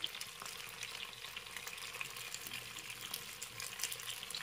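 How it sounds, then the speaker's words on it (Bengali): Chicken and capsicum fry in a covered pan for street-style kathi kabab, giving a steady, soft hiss and crackle that stays even and fairly quiet the whole time, with no voices. "আমি এভাবে একটু ঘুরিয়ে ঘুরিয়ে ফ্রাই করে নিচ্ছি আর ঢাকনা দিয়ে করছি"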